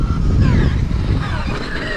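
Traxxas Xmaxx 8S RC monster truck driving nearby, a steady whining motor and rumbling tyres across the whole stretch, with a voice faintly under it.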